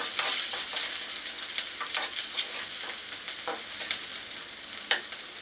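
Onions sautéing on high flame in a pan for curry noodles: a steady close sizzle with scraping stir strokes and occasional sharp clinks of a spatula against metal.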